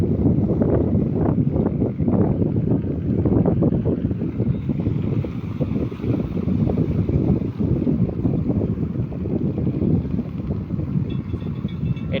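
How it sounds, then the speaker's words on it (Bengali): A fishing trawler approaching on the sea near Chattogram, its engine a steady low rumbling drone mixed with wind noise buffeting the microphone, continuous and fairly loud throughout. "একটা মাছ ধরার ট্রলার আসতেছে"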